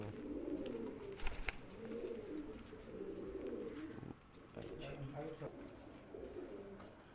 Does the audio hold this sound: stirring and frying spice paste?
no